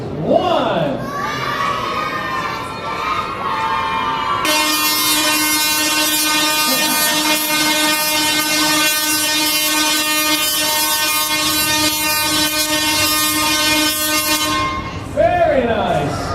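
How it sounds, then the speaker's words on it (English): Tesla coil going off at a live inventors' demonstration, a loud sustained buzzing discharge with rich harmonics lasting about ten seconds after a countdown, amid excited crowd and children's shouting. "the longer and the louder the Tesla coil is going to go off"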